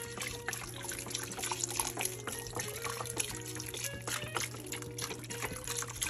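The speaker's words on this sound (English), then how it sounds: "Take our chicken broth and go ahead and pour that on in there." Chicken broth is poured into a crockpot, giving a continuous trickling, splashing liquid stream at moderate level with a steady background hum.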